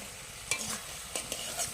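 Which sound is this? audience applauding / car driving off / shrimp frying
shrimp frying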